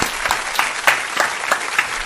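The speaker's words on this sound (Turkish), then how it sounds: "Sırf sadece şu özgüven içimle Bram'a büyük alkış" A short burst of applause, steady clapping from a small group, with a few louder claps standing out.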